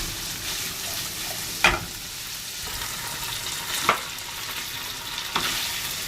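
Onions sizzle in a frying pan while chicken liver is cooked, a steady close hiss broken by three sharp scraping stirs; no voices.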